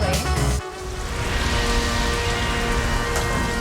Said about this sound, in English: Well, the rain kept continuing